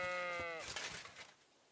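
A single sheep bleats in the video game Kingdom Come: Deliverance 2, one close wavering cry lasting about a second that then fades.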